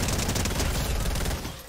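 A video game gun fires a rapid, steady barrage of shots that fills the whole moment at close range, then tails off slightly at the end.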